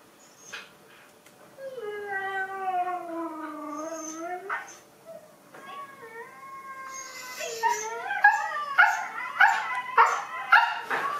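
A dog howls in reaction to sound played from a video, giving long wavering howls that rise and fall, then breaking into a rapid series of higher yips and cries near the end, with no talk.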